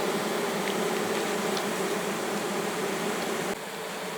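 Honey bees of the Polissian breed buzz densely around hive frames, a loud, continuous close-up drone of many insects with no voices.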